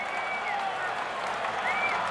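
A baseball crowd at a Yankees–White Sox game rises for the ninth inning, a dense, sustained roar of cheering and clapping with occasional whistles, filling the whole stretch.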